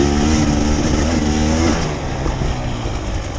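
A 2024 KTM 300 XC-W dirt bike engine pulls loud and close while being ridden, a buzzy two-stroke drone whose pitch rises and falls with throttle changes before settling lower.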